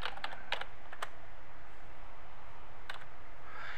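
Quick bursts of computer keyboard keystrokes while a name is typed into a title graphics tool: a cluster of clicks at the start, then a pause before a few more taps near the end, over a low steady hum.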